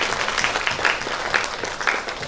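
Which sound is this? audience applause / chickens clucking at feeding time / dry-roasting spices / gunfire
audience applause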